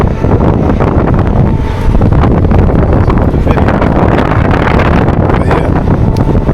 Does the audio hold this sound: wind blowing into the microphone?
yes